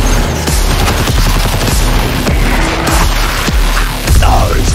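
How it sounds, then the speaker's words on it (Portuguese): Heavy gunfire and explosions in an action video game from the Batman Arkham creators form a loud, continuous barrage of bursts and booms. "Adoro explosões."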